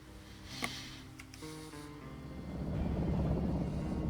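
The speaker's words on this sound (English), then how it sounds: "And the helicopter's back again." Helicopter in the zombie survival game Project Zomboid, its rotor drone building from a distant murmur into a loud, steady low rumble that fills the second half, with no talking over it.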